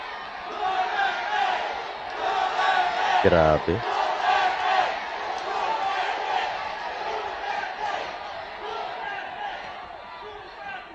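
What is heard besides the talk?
crowd shouting and cheering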